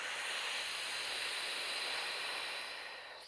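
One slow, smooth breath is blown out close to the microphone in a breathing exercise, a steady airy hiss that holds evenly for about three seconds and then fades, with no talk.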